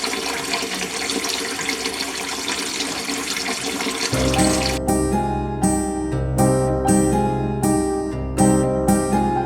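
Filtered water runs steadily from a tap with a rushing hiss for several seconds before music starts playing over it.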